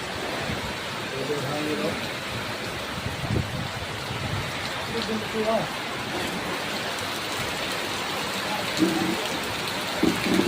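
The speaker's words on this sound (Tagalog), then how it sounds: "Lakas ng hangin, bagyo." Heavy, steady typhoon rain pours down with a constant roar of strong wind, and a few brief voices come through under the downpour.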